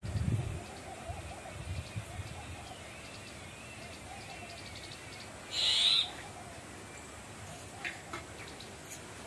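A bird sings from a tree in a village, with faint scattered calls and one brief, bright chirping burst midway over quiet outdoor background.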